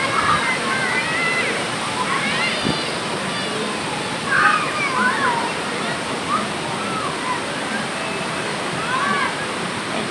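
Water pours down at Tinandayagan Falls resort in Palong, Libmanan, Camarines Sur, a low cascade giving a steady nearby rush, with excited voices of people bathing below heard over it.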